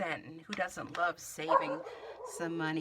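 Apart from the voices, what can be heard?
dog barking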